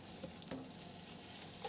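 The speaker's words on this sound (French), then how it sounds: "dans une casserole, j'ai mis du beurre, une belle noix de beurre, je fais suer mes poireaux" Leeks sweat in a knob of butter in a saucepan for a Picardy flamiche, giving a soft, steady sizzle with faint stirring sounds, low and continuous with no talk.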